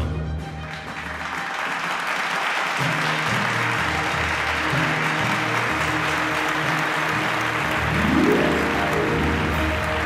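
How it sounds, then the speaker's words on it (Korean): Audience applause at a sales promotion ceremony fills the hall with steady clapping, dense and continuous throughout, with music underneath and a slight swell near the end. "많은 분들이 축하의 박수로 함께 환호를 해주고 계십니다"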